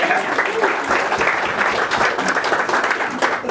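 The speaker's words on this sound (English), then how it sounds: "So Mark's already had a round of applause, but he deserves another one" Audience at a London DevOps meetup applauds in a steady burst of clapping, dense and even across the room, with no break.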